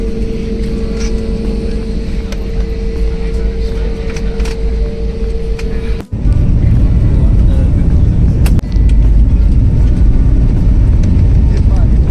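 Loud, continuous engine roar heard from inside an airplane cabin with eight emergency exits, deepening and intensifying midway as the aircraft powers up for takeoff.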